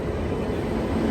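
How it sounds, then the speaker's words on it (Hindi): A Rajdhani Express hauled by a WAP7 electric locomotive arrives at platform 5 with a loud, continuous rumble and rushing roar. "तो भाई अपनी ट्रेन आ चुकी है प्लेटफॉर्म नंबर 5 पे"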